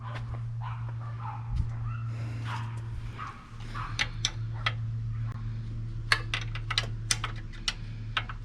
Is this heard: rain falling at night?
no